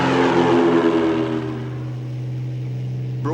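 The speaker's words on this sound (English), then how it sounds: "Using light planes, poison meat can be dropped over large areas." A light propeller plane flies overhead, its droning engine loud at first, then steadying into a continuous hum as it passes, with no voices present.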